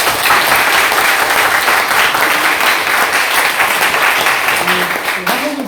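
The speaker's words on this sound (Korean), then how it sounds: "우리 크게 박수 한번 쳐주십시오." Soldiers of a maintenance battalion applaud loudly at a military church service, a sustained wall of clapping from a large group with some voices mixed in underneath.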